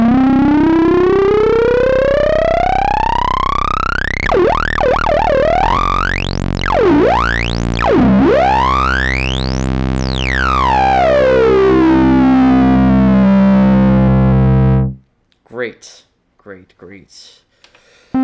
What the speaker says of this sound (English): With the distortion maxed out and you crank the resonance, you get a nice squelch.